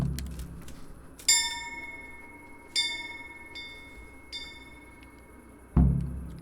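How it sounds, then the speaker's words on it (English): A town bell in the video game Kingdom Come Deliverance rings out in three clear, evenly spaced strikes, each with a long shimmering decay, followed by a dull low thud. "there should be a bell"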